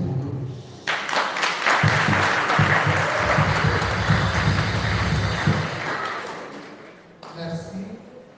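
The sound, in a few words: congregation applause at Mass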